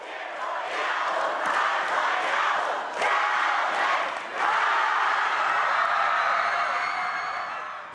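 Nearly 1,900 students roar and cheer at a high school pep rally in a gym, a dense, loud crowd din that swells continuously with brief dips and surges of whoops.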